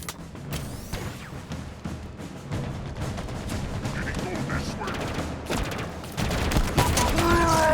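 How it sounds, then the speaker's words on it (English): Rapid gunfire in the Halo Infinite video game, dense overlapping bursts of shots and impacts that stay loud and continuous throughout, building heavier near the end, with a voice speaking over the battle. "He was just shooting the ground in front of him."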